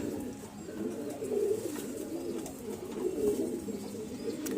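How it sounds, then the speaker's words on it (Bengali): Pigeons in a loft coo in low, rolling bursts while they feed, with several birds close by, soft and continuous and no talking. "এই যে দেখুন পায়রাগুলো খাচ্ছে"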